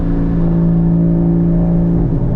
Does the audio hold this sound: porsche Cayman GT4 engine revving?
yes